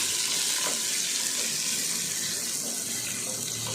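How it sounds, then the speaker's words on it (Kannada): Onion and kasuri methi fry in hot oil in a pot, a dense, even sizzling hiss that runs unbroken and fairly loud throughout, with no voices over it. "ಎಣ್ಣೆ ಬಿಸಿಯಾಗಿದ ತಕ್ಷಣ ಕಸೂರಿ ಮೇಥಿ, ಆದಮೇಲೆ ಆನಿಯನ್ ಹಾಕಿ ಚೆನ್ನಾಗಿ ಫ್ರೈ ಮಾಡ್ಕೊಬೇಕು."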